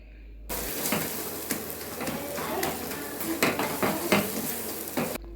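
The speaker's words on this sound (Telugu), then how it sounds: "వెల్లుల్లి కారంని వేసుకొని మొత్తం ఒకసారి కలిసే విధంగా కలుపుకొని 2 నిమిషాల పాటు ఆయిల్లో మగ్గనివ్వాలి" Garlic chili powder stirred and sizzling in hot oil in a pan, a steady frying hiss broken by repeated scraping and clinking of a spoon against the pan, close and fairly loud with no talking.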